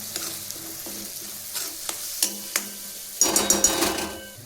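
Tomato puree being stirred into cooked onions in a pan for a kaju paneer masala: a series of short, distinct spoon scrapes and taps, then a louder burst of sizzling with quick stirring strokes near the end.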